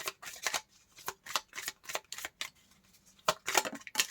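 Tarot cards shuffled and drawn by hand, a quick irregular run of crisp riffling slaps and flicks, close up with no talking.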